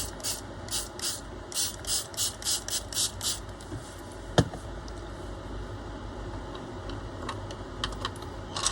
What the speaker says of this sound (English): I think I'm going to spray water first.